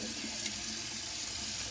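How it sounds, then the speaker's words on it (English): Organic muscadine grapes are rinsed under a running kitchen tap, giving a steady, close rush of water splashing into a sink that continues evenly throughout. "But I'm gonna wash my grapes."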